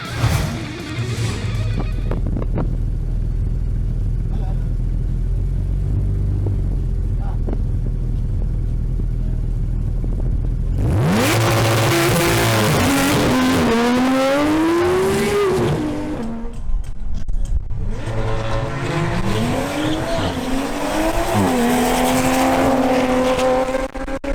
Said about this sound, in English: Now, Johnny Sandoval makes his pass in his Porsche 911 GT3 RS